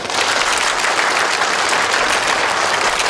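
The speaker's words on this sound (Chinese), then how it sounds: "掌声欢迎顾总" A large gala crowd claps steadily throughout, loud and dense, welcoming a company president at an anniversary celebration reception.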